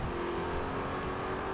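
Race cars roar continuously in the Real Racing 3 video game, a dense steady engine drone without pauses.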